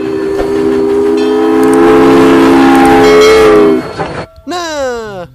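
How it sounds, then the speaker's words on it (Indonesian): A loud, sustained toy train whistle blares steadily for several seconds, then breaks into a series of rapid descending electronic chirps. "Ini train atau kereta api"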